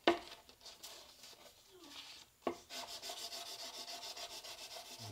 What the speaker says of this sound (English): one way of doing it is get some 2000 grit sandpaper